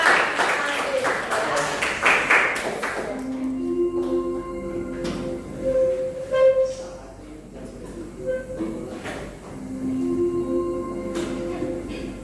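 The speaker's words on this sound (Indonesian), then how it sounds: "Berikan tepuk tangan" A classroom of students applauds, a short burst of dense clapping in the opening seconds that quickly fades, followed by scattered claps and speech.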